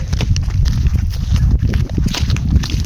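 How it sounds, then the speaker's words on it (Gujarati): Buffaloes heading home on foot along a rural Gujarat village track, a steady loud patter of hoofbeats close by with a continuous rumbling background and no talk. "ભેંસો બહુ ઉતાવળ છે ઘરે જવાની."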